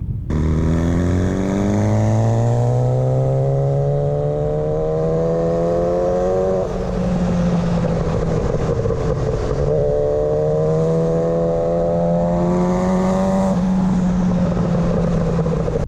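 A turbocharged Suzuki GSX1100ET motorcycle, built up from a frame and body kit, revs hard twice, each time climbing in a long rising engine whine that drops back to a steady idle between the runs.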